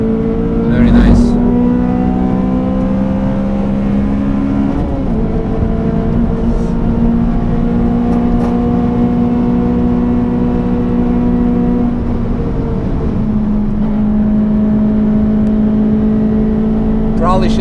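A Honda Civic FD2 Type R driven hard on the Nürburgring, heard from inside as a loud, steady high-revving engine drone with a couple of brief pitch dips at gear changes.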